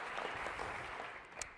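Brief, faint audience applause at a talk on a JavaScript debugger, a short soft wash of clapping lasting little more than a second.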